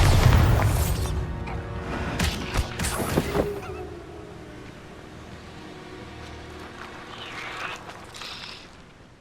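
A Bombarda blasting spell from the video game Hogwarts Legacy detonates in one loud, booming burst with a few sharp crackles, then its rumble decays into a quieter tail.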